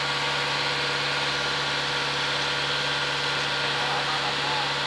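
A 2013 Nissan Serena with an automatic gearbox idles during engine tuning, a steady, even hum and vibration close by throughout, with faint voices in the background.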